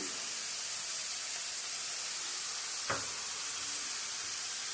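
Onions fry in a pan for akakarakaya curry, giving a quiet, even, continuous sizzling hiss with one brief soft tap partway through.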